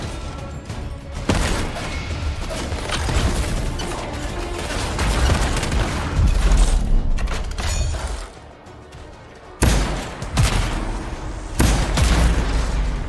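Repeated shotgun blasts and rocket fire ring out in the sci-fi shooter Anthem, a dense run of loud bangs and mechanical clatter with brief lulls between bursts.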